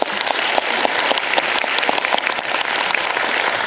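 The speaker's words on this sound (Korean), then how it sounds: "세 분에게 다시 한번 박수 부탁드립니다." Steady applause from a film festival audience at a post-screening talk with the director and actors of Mogadishu, dense clapping sustained for the whole stretch without voices.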